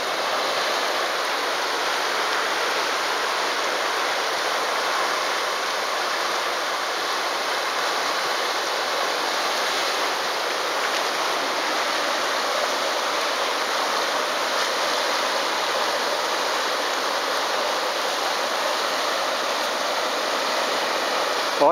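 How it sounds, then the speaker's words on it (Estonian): Ice drift on the Pärnu river in Estonia, with water flowing and broken ice floes pushing up from beneath the ice, gives a steady, broadband rushing wash that holds even and unbroken throughout, with no voices. "Ja näed, tükid tuleb alt üles, kõik jää alt, teise jää alt."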